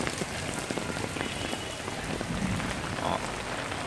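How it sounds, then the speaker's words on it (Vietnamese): Steady rain pattering on surfaces along a Saigon street on a rainy day, a continuous close hiss of drops with no voices. "Trong cơn mưa thì có một cô đang bán."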